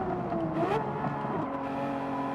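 A Porsche 911 GT3 RS in Gran Turismo 7 accelerates hard up through the gears toward the finish line, a steady engine drone with shifting pitch at moderate level, no talk.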